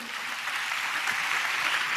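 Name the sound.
congregation clapping hands in praise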